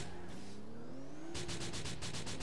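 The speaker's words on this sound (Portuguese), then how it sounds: "Tá acelerando firme" A car revving and accelerating hard in GTA 4, with engine pitch climbing steadily, then a burst of rapid rhythmic revving or tire noise near the end, loud and close.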